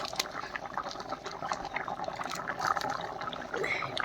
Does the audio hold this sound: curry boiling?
yes